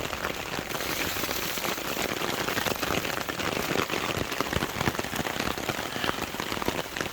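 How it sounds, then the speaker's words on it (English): Heavy rain drums steadily on a tarp shelter at an outdoor fishing campsite, a dense, continuous patter of drops close by with no talk. "Okay, we got some real rain now, don't we?"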